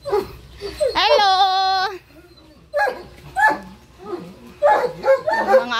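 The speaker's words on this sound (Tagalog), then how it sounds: "Yung mga aso ko naka-electric pan." Indoor dogs bark and yip in short loud bursts, one drawn-out whiny bark followed by several sharp yaps, close by and mixed with a person talking.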